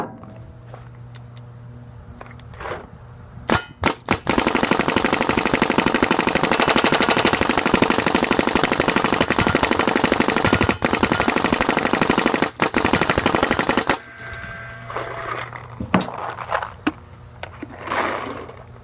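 A tuned Planet Eclipse GSL paintball marker fires a long, rapid, continuous string of shots lasting about ten seconds, with a few separate shots before and after the burst.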